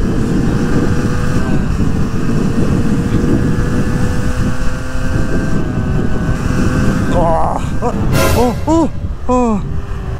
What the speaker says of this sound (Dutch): De brommer maakt toch nog een normaal geluid.